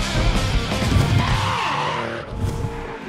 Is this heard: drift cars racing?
yes